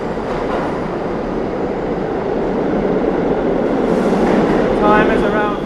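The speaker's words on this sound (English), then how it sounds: "I just got off a Whitehall Street bound W train at the 5th Avenue station." A Whitehall Street bound W subway train at the 5th Avenue station in New York City rumbles steadily up close, with a brief high squeal near the end and a voice speaking over it.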